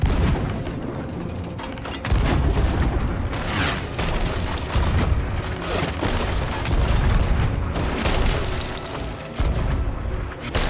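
Cannons fire in the pirate video game Sea of Thieves, heavy booms repeating every second or two in a loud, chaotic barrage with mechanical clatter between shots.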